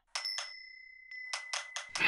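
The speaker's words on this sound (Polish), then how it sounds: "podoba mi się dźwięk dzwonka w tle, jest taki dosyć kojący" Soft bell chimes ringing in the background of a Time Traveler role-playing video game, a short series of bright, evenly spaced dings with sustained tones lingering between strikes.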